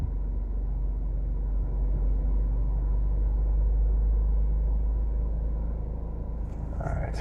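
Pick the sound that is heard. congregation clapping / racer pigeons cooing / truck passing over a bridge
truck passing over a bridge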